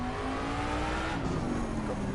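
A naturally aspirated V8 race car engine revs with a bright, sustained close drone that climbs slowly in pitch, with a voice heard faintly beneath it.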